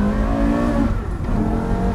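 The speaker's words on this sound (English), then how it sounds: "the sound, the way it revs when you dip the clutch, the revs just go." A Porsche Carrera GT's 5.7-litre V10 revs close by in a loud, raw engine tone, the pitch climbing sharply then dropping and rising again as it shifts.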